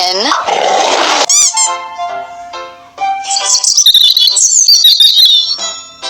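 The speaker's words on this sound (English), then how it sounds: "Bird." A bird calls in a children's alphabet and animals lesson, with bright, high chirping and tweeting notes that rise and repeat over several seconds after a short burst of noise and a few tones.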